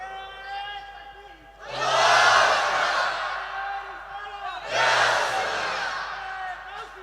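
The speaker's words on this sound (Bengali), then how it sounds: "একটা জোরে তাকবীর দাও।" A large crowd at a religious sermon gathering shouts a takbir (Allahu Akbar) in unison in two loud, roaring bursts, with softer murmuring and a voice in between.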